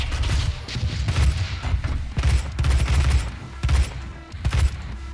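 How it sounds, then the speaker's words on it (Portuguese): Rapid bursts from a machine gun in DOOM, loud booming shots fired in quick clusters with brief pauses between volleys. "Cara, essa metralhadora é incrível"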